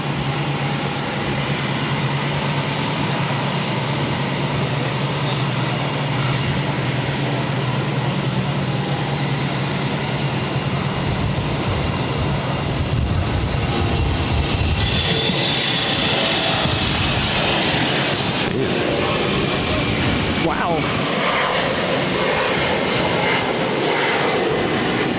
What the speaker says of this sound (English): This is JetBlue Airways 1324 taking off to Martha's Vineyard on an E190.